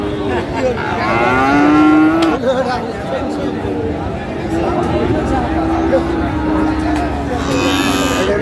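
Bulls and cattle moo loudly and repeatedly at a busy livestock market, with long drawn-out calls rising over a constant murmur of crowd noise and nearby voices.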